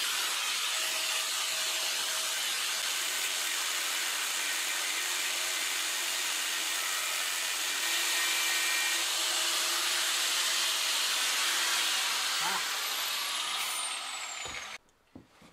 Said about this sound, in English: I already started cutting into the front of the frame because at the angle I was holding the grinder